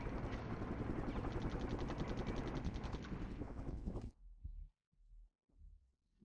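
Military helicopters in the wargame Flashpoint Campaigns Southern Storm give a loud rhythmic rotor thumping for about four seconds, then it cuts off into a few short muffled thuds.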